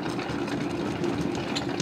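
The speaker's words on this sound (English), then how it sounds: "So you just keep cranking and cranking and cranking, and eventually the spinning action of the centrifuge will throw all your honey out" A hand-cranked centrifuge honey extractor spinning frames of comb, a steady whirring mechanical drone with a faint rhythmic rattle, close and continuous.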